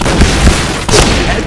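A grenade blast in the shooter game Point Blank: a dense, loud booming burst with a second sharp explosive hit about midway, the whole short stretch filled with battle noise and no talking.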